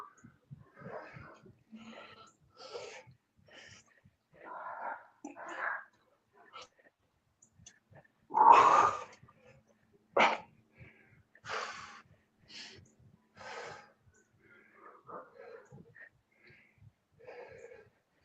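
An old dog snorts and wheezes in a series of short, close, rough bursts separated by quiet gaps, one louder snort standing out in the middle.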